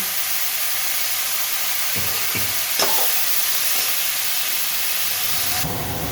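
Spinach frying in oil in a pan for a spinach and bean stir-fry gives a steady, close sizzle with a few scraping stir knocks, then louder spitting toward the end; no one speaks.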